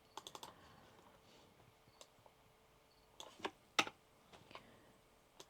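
Typing on a computer keyboard while entering an Excel formula, sparse quiet key clicks in small bursts with a few sharper louder taps, no talking.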